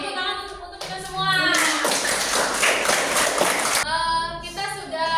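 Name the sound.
classroom applause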